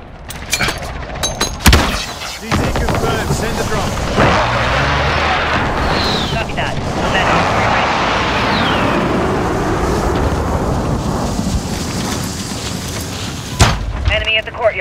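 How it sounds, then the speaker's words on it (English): Precision airstrike explosions hit in the Call of Duty: Modern Warfare video game as a series of heavy booms. A dense, sustained rumble follows, bracketed by sharper blasts and gunfire near the start and the end. "Be advised, friendly precision airstrike inbound."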